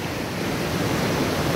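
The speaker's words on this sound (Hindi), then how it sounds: "बस आपको सुनाई देगा झरने के पानी की ये प्यारी सी आवाज़" Mandakini waterfall at Harsil, Uttarakhand, pours water in a steady, dense rushing roar that stays even and unbroken throughout, with no voices present.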